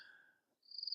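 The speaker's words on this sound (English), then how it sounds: "I can hear the crickets" Crickets chirp at sunset, a faint, brief, high-pitched trill heard alone.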